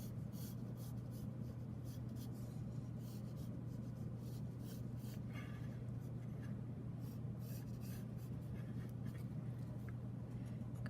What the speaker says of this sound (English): And then I can erase any extra stuff I may have on there.